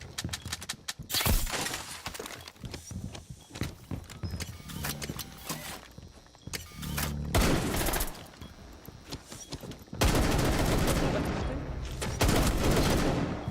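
Gunfire and an explosion in a tactical shooter video game: bursts of rapid shots, sharp cracks and clattering impacts, then a loud, sustained blast near the end.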